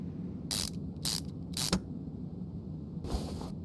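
Sharp ratcheting bursts from a ratchet tightening a bolt in Car Mechanic Simulator 2021, three quick clicks close together followed by a longer ratchet run after a pause, over low background noise.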